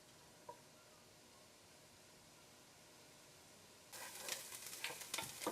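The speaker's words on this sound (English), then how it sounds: "my burner's just getting nice and hot here now, so that's just going to saute for just a little bit" Onions sautéing in a hot pan break into a sudden loud, hissing sizzle after a near-silent start, with bursts of stirring crackle in the last second and a half and no talking.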